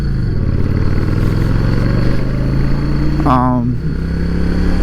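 A motorcycle engine hums steadily while riding, then revs up briefly before settling back. It stays loud and close, with a rider talking over it.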